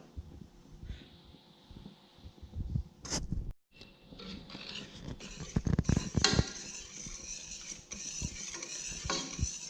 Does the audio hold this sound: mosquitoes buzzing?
no